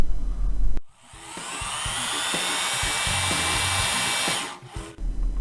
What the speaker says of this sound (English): we're going to use an electric torque setting gun set at about 900 pounds